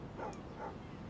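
A dog in the video game Life is Strange gives two short, faint barks or yips roughly half a second apart over a quiet background.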